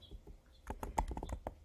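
Keystrokes on a computer keyboard, a quick uneven run of soft clicks that grows louder and busier halfway through, close by and with no voice.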